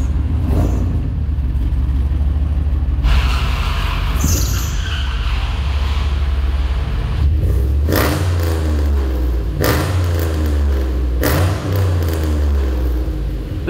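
A Mercedes 500E with an LS engine swap, a sleeper car, idles and revs close by with a deep steady rumble, sharp throttle blips and crackles breaking through at intervals.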